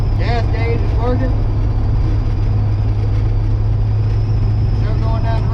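An abandoned 1957 Chevy, neglected for five decades, rolls down the road with a steady, loud engine drone and low rumble throughout, while voices talk over it.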